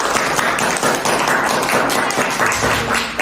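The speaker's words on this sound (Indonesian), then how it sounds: "Berikan tepuk tangan" Audience applause at an SMK Negeri 10 Jeneponto school event: many hands clapping loudly and steadily in a dense, continuous patter, up close.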